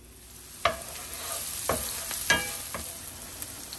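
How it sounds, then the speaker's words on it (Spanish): Onion sautéing in a large spoonful of oil in a frying pan makes a soft continuous sizzle, broken by several distinct utensil clacks and stirring scrapes at irregular intervals. "Por acá vamos a colocar la cebolla. La vamos a sofreír por un minuto nada más."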